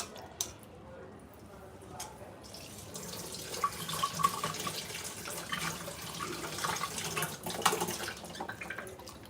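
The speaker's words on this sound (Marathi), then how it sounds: "दोन ते तीन पाण्याने धुवून घ्यायचं स्वच्छ एकदम" Running tap water splashes steadily as chicken is rinsed under it, with wet squishing and handling noises throughout.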